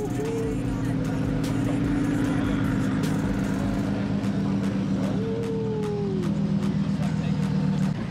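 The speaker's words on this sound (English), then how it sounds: "The modern exhaust." Modern car exhaust droning steadily at close range with a low, continuous rumble and a rising pitch sweep, while people talk over it.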